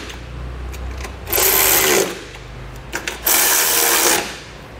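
A power tool snugs down running board mounting bolts on a 2022 Chevrolet, two sustained whirring bursts of about a second each, close and loud, over a low steady background hum.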